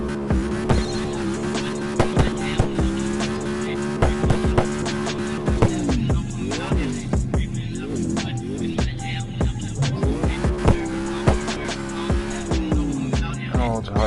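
A race car engine roars at full speed in the CarX racing game, a steady, loud high-revving drone whose pitch dips and climbs again, with quick clicks and shifts throughout.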